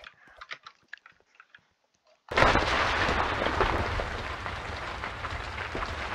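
In the Roblox game Natural Disasters, a tank lets off a sudden loud blast after a quiet stretch of clicks, followed by a sustained roaring rumble that slowly fades.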